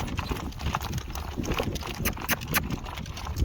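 Hooves of a horse at a working trot strike the ground in a steady, quick two-beat clip-clop, close and distinct, with gusty wind blowing across the microphone throughout.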